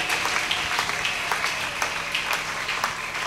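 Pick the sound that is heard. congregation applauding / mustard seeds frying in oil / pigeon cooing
congregation applauding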